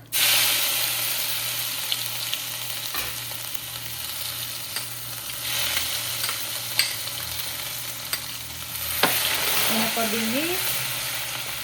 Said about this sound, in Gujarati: હવે નાખીશું ગાર્લિક.